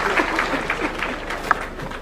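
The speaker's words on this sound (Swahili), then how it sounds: "Tumpigie makofi Mheshimiwa Rais." Audience applause for the President of Kenya at an International Youth Day event in Kakamega County, a steady wash of clapping from a crowd, moderately loud and continuous across the moment, with a few sharper individual claps standing out.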